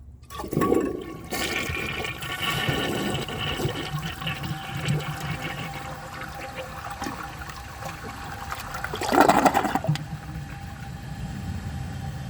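A 1981 Briggs Conserver concealed jet toilet flushes a washcloth, starting with a sharp rush of water, then a sustained swirling drain and refill, with a second gurgling surge of siphon near the end.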